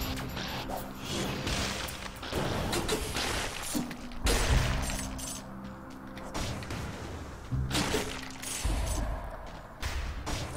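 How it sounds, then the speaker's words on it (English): Explosions in the Dead Cells video game, several booming blasts and crashes with sharp thuds around busy game noise, loud bursts separated by brief lulls. "Always with the explosions."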